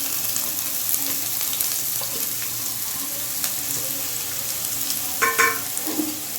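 Steady soft sizzling of garlic and chopped onions frying in oil for corn soup, with a few light clinks and stirring sounds near the end.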